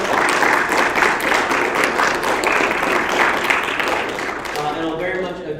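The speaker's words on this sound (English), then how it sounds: "I do want to say one more round of applause for all 4 of our debaters" An audience claps for four student debaters at a university discourse event, a steady broad wash of many hands that holds evenly, then thins and fades near the end as a voice begins to speak.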